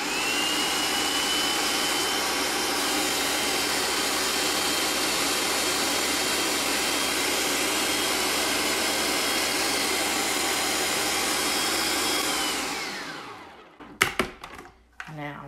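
Blender running on its puree setting with a steady, loud whirring drone for about twelve seconds, then winding down and stopping, followed by a few brief knocks and clatters.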